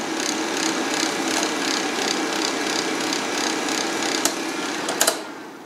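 Small electric heater runs off a portable solar generator, giving a steady whirring, blowing hum at moderate level throughout, with a couple of sharp clicks near the end.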